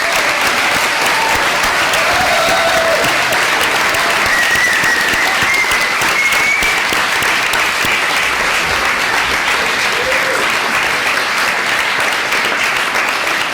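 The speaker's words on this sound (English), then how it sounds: "Can we please applaud the nominees?" A university awards-night audience applauds the nominees with loud, continuous clapping that stays dense and even, with faint voices and cheers rising within it.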